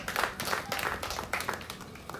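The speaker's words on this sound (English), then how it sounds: "Let us clap for her." An audience at a school patriotism club pass-out ceremony claps together in a burst of applause, uneven and fairly close, with the clapping swelling and fading across the moment.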